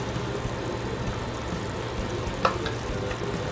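Cornstarch being whisked into boiling pot roast juices from a crockpot roast, a continuous bubbling, rushing simmer close up with one brief clink of the whisk against the pot midway.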